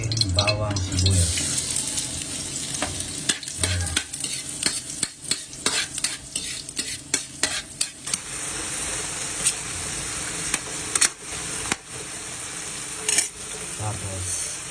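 Garlic and onion sizzle and sauté in a hot pan for a Filipino dish, a steady loud frying hiss broken by repeated quick stirring scrapes and clicks, with occasional speech in the background.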